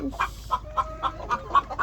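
Several egg-laying hens cluck close by in a series of short, evenly spaced, rhythmic clucks, with no voices over them.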